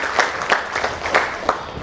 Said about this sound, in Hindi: एक बार और जोरदार तालियां हो जाए हमारी दिल्ली की टीम के लिए